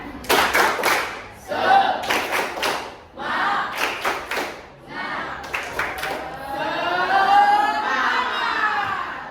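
A school class claps in sharp rhythmic bursts, alternating with loud shouted chanting from many students, ending in a long collective cheer.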